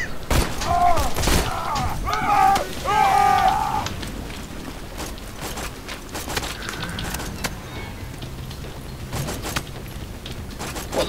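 Gunfire in Borderlands 2 aimed at the player, dense bursts of rapid shots and sharp cracks, loudest early on and then scattered and quieter, mixed with other game effects and brief voices.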